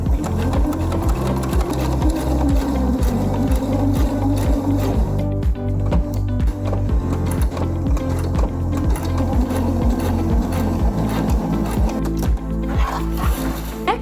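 A sewing machine stitches a button placket on a collared baby onesie, running steadily in a fast, even rhythm of needle strokes, loud and close with no talking.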